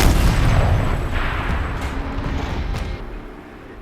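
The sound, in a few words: turret cannon firing in Horizon Zero Dawn video game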